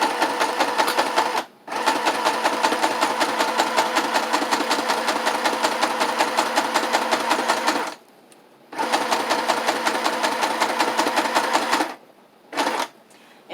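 A sewing machine stitches a handmade traveler's notebook insert in long continuous runs of rapid, rhythmic mechanical clatter, stopping briefly between runs for backstitching; the sound is loud and close, with no talking.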